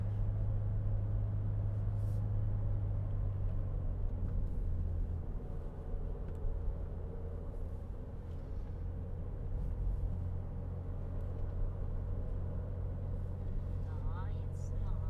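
A car drives over a rough road on a spring road trip, with a steady low engine and tyre rumble that continues throughout, while people inside talk over it.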